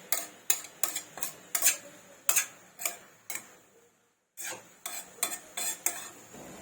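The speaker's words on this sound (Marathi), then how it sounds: "सर्व आपण साहित्य हे मिक्स करून घ्यायचं भाजीमध्ये चांगलं असं मिक्स करून घ्यायचं" A spoon stirring spring onion vegetable curry with homemade garam masala in a pan, giving a series of light, quick clinks and scrapes in an irregular rhythm, with a brief pause partway, close and fairly quiet.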